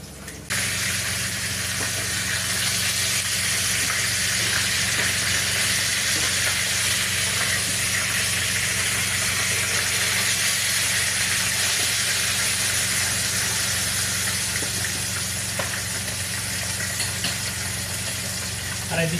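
Fish fries in hot oil on a low flame, a steady, close, broadband sizzle and hiss that carries on evenly for the whole stretch, with a faint low background hum and no talk.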